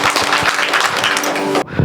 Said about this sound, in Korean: 이곳에 불러주신 하나님께 영광의 박수 올려드리겠습니다.